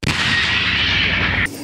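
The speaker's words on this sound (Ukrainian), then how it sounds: "Сьогодні ми стріляли картечним боєприпасом." A Leopard 1A5 tank gun fires a canister round: a single loud, close blast whose broad roar holds for about a second and a half before cutting off abruptly.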